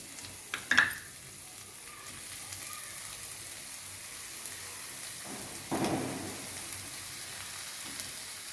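Finely chopped dill leaves tipped into a hot pan for a North Karnataka-style palya, giving a quiet, crackling fry with a brief clatter early on and a louder burst of sizzling partway through.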